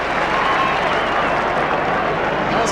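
A near-full football stadium crowd at a 1998 AFL match between West Coast Eagles and Fremantle Dockers, a dense, steady roar of cheering and applause filling the whole space without pause.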